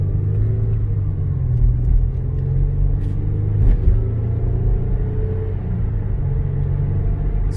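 A 2005 Toyota Highlander 3.3 V6 pulls steadily at part throttle through its gears, a low continuous engine drone and road rumble heard from inside the cabin.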